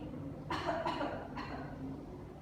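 A single short cough with a couple of bursts, close and moderately loud, in a quiet room.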